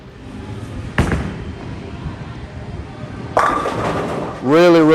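Bowling ball thrown during league play, with a sharp release thud, a rumbling roll down the lane and a loud crash into the pins a couple of seconds later, followed by a brief voice at the close.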